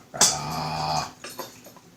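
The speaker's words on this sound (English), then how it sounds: "here's the big black dog" A big black dog lets out a sustained, fairly close growling whine lasting under a second, followed by a few softer, brief whimpering sounds, with no speech.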